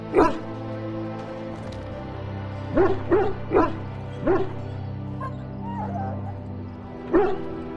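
Dog whimpering and yipping in a pen in the video game Dragon Age: Origins, several short yelps and a final bark rising over a steady droning music bed, fairly close.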